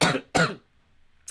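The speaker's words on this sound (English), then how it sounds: "I've been coughing." Two harsh coughs close together, followed by a short quiet pause and a faint breathy catch at the end.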